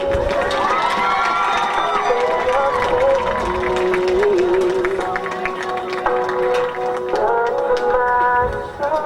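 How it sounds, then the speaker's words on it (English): At a high school girls' sports game, the crowd applauds seniors and their families: loud, sustained clapping and cheering with shouting voices throughout, filling the whole stretch as a dense roar. "Let's have a nice round of applause for our seniors and their families."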